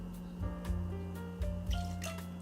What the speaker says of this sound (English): I'm going to pour in a full ounce of freshly squeezed lime juice.